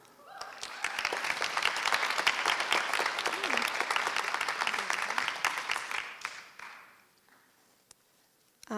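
Audience applause at a graduation award ceremony, a dense burst of many hands clapping that builds quickly, holds steady for several seconds, then tapers off to near silence.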